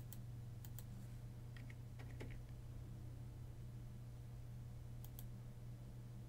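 Light keystrokes on a computer keyboard, typing a design number into a search bar, tick faintly in a few scattered short bursts over a steady low room hum.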